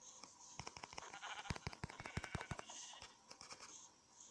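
Sheep bleating in the Minecraft video game, faint and repeated, mixed with a rapid series of clicking taps and a steady background hum.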